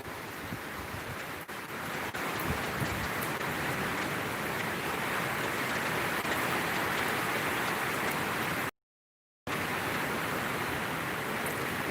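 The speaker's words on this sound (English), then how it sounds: "Hear the rain falling harder?" Heavy rain pours down in a dense, constant hiss, loud and unbroken apart from a brief dropout near the end.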